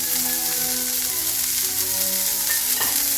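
Cajun-seasoned cod fillet frying skin-side down in a pan, a steady close sizzle and crackle running throughout with no voices.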